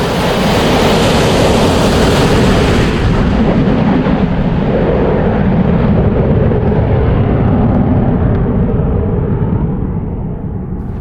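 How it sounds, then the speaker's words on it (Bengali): Kalaikunda Air Force fighter jets on a practice flight roar over a wide World War II-era airfield near Durgapur village, Jhargram. The thunderous, continuous engine blast is very close and loud, then gradually dulls as the jets move away. "মাঝে মধ্যে কান ফাটানো আওয়াজ, কলাইকুণ্ডা এয়ারফোর্স পাইলটদের যুদ্ধ বিমানের প্র্যাকটিস।"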